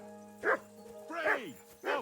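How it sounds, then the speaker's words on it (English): A dog in the medieval role-playing game Kingdom Come: Deliverance barks three times in quick succession, fairly close, with short yappy barks. "Henry, that barking's driving me nuts. Can you get your dog to shut its beak?"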